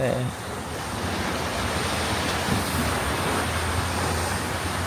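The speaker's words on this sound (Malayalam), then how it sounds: "തോട്ട് സൈഡിൽ കടലാണ് മക്കളെ" Sea waves wash onto the shore in a continuous, even roar, heard from a moderate distance.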